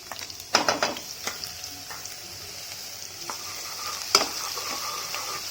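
Chopped garlic and green chili fry in a tablespoon of oil in a kadhai over medium flame, a soft steady sizzle broken by a few sharp spatula scrapes and taps near the start and end.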